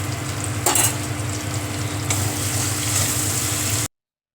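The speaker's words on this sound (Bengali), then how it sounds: "মশলাটা ভালোভাবে কষিয়ে নেব" Spices and flat beans fry in a pan over low gas, giving a close, steady sizzle with a few brief stirring scrapes before it cuts off abruptly.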